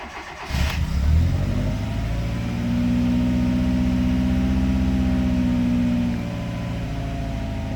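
A petrol Tofaş car with a newly replaced throttle pedal position sensor and an open air filter cranks and fires. It gives a brief rev, then settles into a steady, close idle with a droning hum and no talk.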